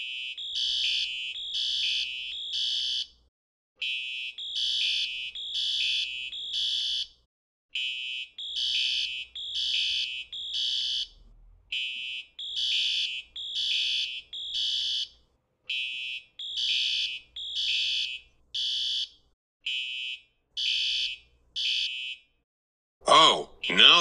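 A shrill electronic alarm beeps in repeating groups of rapid pulses separated by short gaps, loud and persistent, with a brief voice at the very end.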